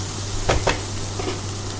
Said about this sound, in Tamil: இப்போ இதில் கொஞ்சமாக மஞ்சள்தூள் சேர்த்துக்கோங்க சேர்த்து நல்லா கலந்து விட்டுடலாம்